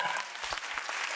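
Clapping from the congregation at a church sermon, a short, brisk burst of many hands applauding together at moderate distance.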